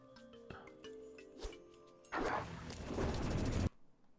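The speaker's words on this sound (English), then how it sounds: "Right, there was a Lightning Storm." Lightning Storm thunder in a strategy video game: a loud, dense crackling rumble bursts in about halfway through and roars steadily for over a second before cutting off sharply, following scattered game clicks and tones.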